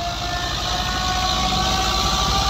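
A Fiat 640 tractor drives a threshing machine working a wheat crop, giving a loud continuous mechanical drone with steady tonal whine and rumbling low throb, no talk over it.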